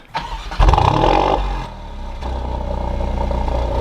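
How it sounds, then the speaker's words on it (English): A 2024 Alfa Romeo Giulia Quadrifoglio engine cranks and catches by remote start, surging briefly before settling into a steady, rumbling idle close by. "let's hear that remote start"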